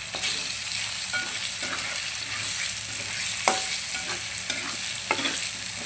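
Bottle gourd pieces with salt and turmeric are stirred in hot oil, a loud continuous sizzle broken by rhythmic scraping of a spoon against the pan every second or so.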